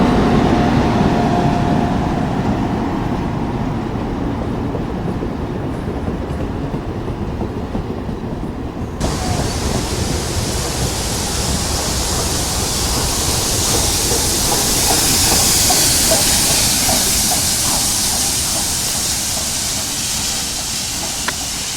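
Nickel Plate Road 765, a steam locomotive, rolls past in the Cuyahoga Valley with a loud, sustained rumble and hiss, then brighter rushing and rail clatter as the train cars go by.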